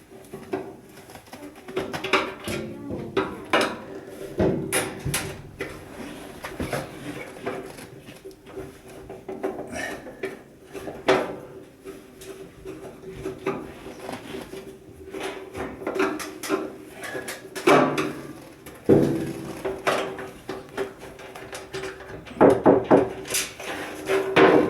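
A Kenmore 80 Series washer lid is shifted forward during a lid switch repair, giving scattered plastic and metal knocks, clicks and scrapes spread unevenly through the span, fairly close and moderate in level.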